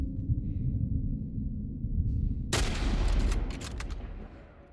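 Gunfire in The Last of Us Part 1 erupts halfway through as a loud, dense burst of shots over a low rumbling game backdrop, fading toward the end.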